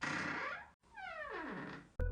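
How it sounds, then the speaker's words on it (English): Door opening effect from the video game Five Nights at Freddy's 4, a short harsh swoosh with a falling sweep after a brief gap, cut off by a sudden low thud at the end. "This is the sound of the door opening when I get there"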